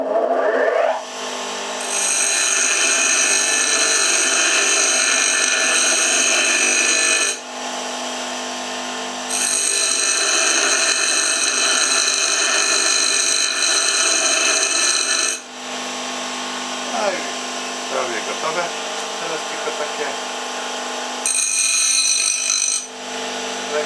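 A bench grinder-sharpener deburring a steel flat bar for a crank, grinding loudly and continuously in long passes broken by brief pauses, with scraping bursts as the metal meets the wheel.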